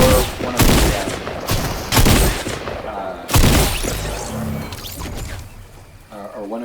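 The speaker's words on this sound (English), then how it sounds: "the ARs that one right there that fire multiple shots" An assault rifle in Fortnite fires loud multi-shot bursts, about four sharp volleys spaced a second or so apart, each followed by fading echoes, with someone talking underneath.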